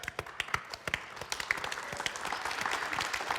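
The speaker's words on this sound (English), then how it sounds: "Can we get a round of applause for Warwick, please?" An audience at a live murder-mystery theatre show claps, starting as a few scattered, distinct hand claps and thickening into soft, steady applause, fairly quiet and close.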